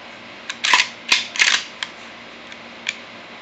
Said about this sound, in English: when you cock it back and you go like that